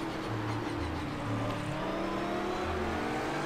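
A race car engine revs in the video game Project CARS 2, with repeated surges and gear-change pulses over a steady whirring drone throughout.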